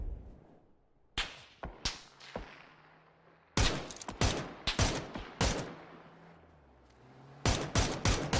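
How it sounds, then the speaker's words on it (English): Gunfire in the battle royale game PUBG: sharp, loud shots arrive singly and in quick clustered bursts, separated by short pauses, with the reports ringing out after each volley. "this dude's focused on shooting me"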